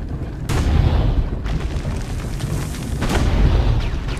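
Tank cannon fire in Assassin's Creed: Brotherhood, heavy booming blasts over a dense, continuous low rumble, the sharper impacts landing about a second and a half apart.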